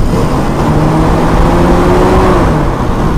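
Toyota Kijang Super engine with its carburetor being blipped lightly, a steady loud revving drone that swells slightly and holds, close up with no talking.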